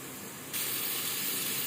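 Coriander and curry leaves dropped into a hot pan of frying beetroot bhaji set off a sudden loud, steady sizzle that continues evenly after a short quieter stretch.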